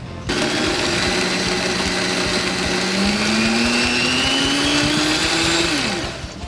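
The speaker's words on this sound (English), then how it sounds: "and then we blend" A kitchen blender whirs steadily as it purees a banana, peanut butter and chocolate whey protein smoothie. The motor holds a loud, constant drone, its pitch rising partway through, and then it cuts off near the end.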